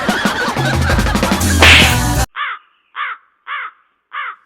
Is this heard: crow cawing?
yes